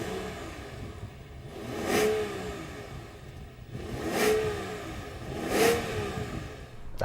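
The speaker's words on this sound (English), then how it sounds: "can you let me hear your engine please?" A BMW 760Li engine revs at standstill in three distinct swelling bursts, each rising and falling away, heard fairly close with quiet idle between them.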